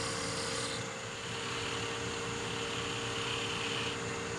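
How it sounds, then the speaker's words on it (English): Light planing cuts on a thin wooden gnome Christmas ornament turning on a lathe: a continuous whirring hiss of the spinning wood and tool contact, steady and close with no pauses or talk. "So I'm just going to do some very light planing cuts because we're getting nice and thin."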